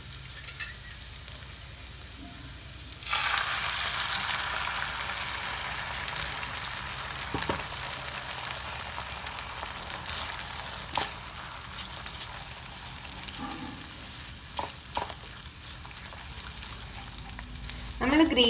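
Egg is added to a hot pan of green peas and curry leaves, and a bright, steady sizzle of frying jumps up suddenly a few seconds in, then holds close and continuous with occasional stirring clicks.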